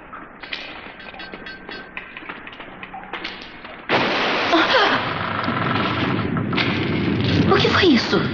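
An explosion from deep construction excavations bursts in about halfway through, a sudden deep blast that swells into a sustained rumbling roar after quieter scattered knocks and rustles.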